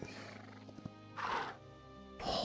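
Horse whinnies in the video game Hytale, two bright bursts of neighing rising over a steady game music backdrop, fairly close and loud, with no talking.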